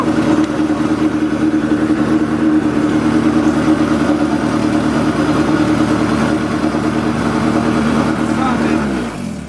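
A Honda B18 VTEC engine idles steadily in a car with a project roll cage and idle problem, a loud, close, even rumble that fades out near the end, with people talking over it.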